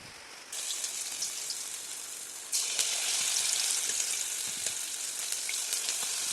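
Pakoras made with banana flower fry in hot refined oil, giving a steady, close crackling sizzle that gets noticeably louder and fuller partway through, then continues alone without any talking.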